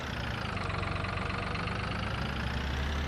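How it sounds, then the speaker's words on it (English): A tractor engine runs steadily in Farming Simulator 22, a continuous low idling drone with a rough, knocking texture, close and unchanging, with no talk. "I do like the engine sound in it"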